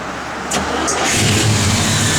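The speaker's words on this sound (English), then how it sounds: "You hear that cam working a little." A 1967 Chevrolet Chevelle SS V8 with an upgraded cam runs close by, starting from a lumpy idle and then rising into a louder, choppy rumble, with no speech.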